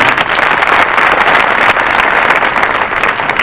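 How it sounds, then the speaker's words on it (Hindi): An audience at a religious discourse gathering in Chalisgaon claps loudly and densely, with sustained applause that fills the space throughout. "बजा दो ताली।"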